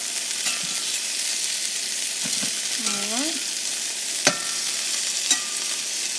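Thick turkey burgers fry in a pan over turned-down heat, giving a soft steady sizzle with a few utensil clinks and scrapes along the way.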